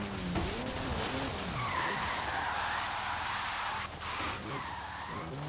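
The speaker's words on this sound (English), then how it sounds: "And we spun out." An open-top car in the rain in Forza Horizon 3 skids and spins out, with sustained tire squeal and sliding over a steady engine drone, loud and close, with no talk.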